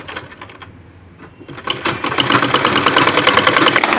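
A sewing machine stitching a women's shirt, starting with a few slow isolated clicks before running into a fast, steady rattling hum, close and loud, with no talking.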